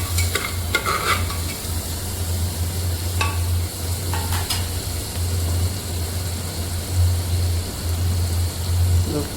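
Whole garlic cloves sizzle steadily in a hot pan with a little salt, while a spoon scrapes and stirs at irregular moments over a constant low hum. No one speaks.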